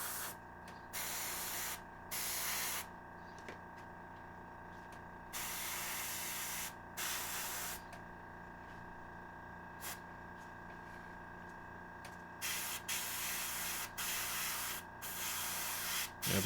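An aerosol can sprays primer over a large Noise Marine miniature model, with repeated close hissing bursts of a second or two each, separated by short pauses.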